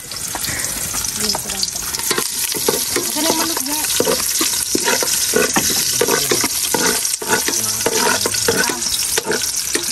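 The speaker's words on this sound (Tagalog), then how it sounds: "Naggisa na sa tambutso guys." Loud, continuous sizzling and frying with scraping stir sounds, as food is sautéed in hot oil on a vehicle's hot exhaust pipe close by.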